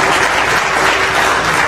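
A church congregation breaks into loud, dense applause, many hands clapping steadily and close throughout without any talk.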